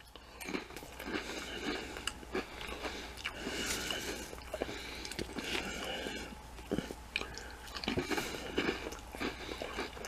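Nabisco Original Mini crackers dipped in Fresh Cravings red pepper hummus and eaten up close, with repeated crunchy bites and steady wet chewing that go on throughout.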